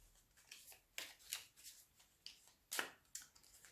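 Tarot cards shuffled by hand in a quiet room, giving a series of soft, crisp riffling and slapping bursts at an uneven rhythm, fairly close and faint, with no talking.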